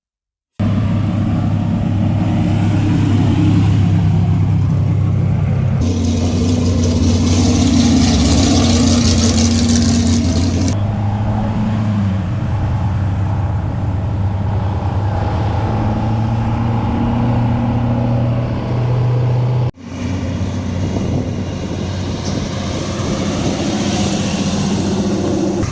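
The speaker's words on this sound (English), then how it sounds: "some just drive-by shots of some of the race cars cruising by us, and, going to the staging lanes" Race cars cruise past toward the staging lanes at a drag strip bracket-racing event, with a loud, steady rumble of big engines idling and rolling by and occasional swells of revving.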